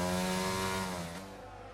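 A race car engine screams past on a drying track after a safety car period, a strong harmonic whine that holds, then slides downward in pitch and fades as it moves away.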